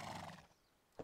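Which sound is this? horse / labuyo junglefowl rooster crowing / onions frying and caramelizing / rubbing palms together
horse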